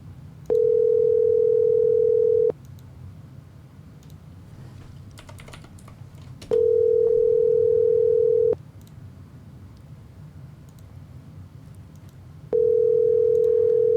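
A Google Voice phone call rings out with three loud, steady tones, each about two seconds long and separated by pauses filled with faint background noise.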